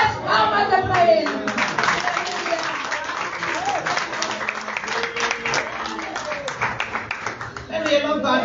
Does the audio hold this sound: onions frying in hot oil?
no